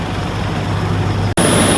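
An airport shuttle bus at Dhaka airport, carrying passengers out to a Biman Bangladesh Airlines plane, idles with a steady, close engine drone and low rumble, broken by a brief dropout near the end.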